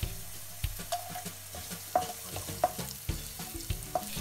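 Chili sautés in a hot pan with a continuous close sizzle, broken by regular knocks and scrapes from a stirring utensil; no talking.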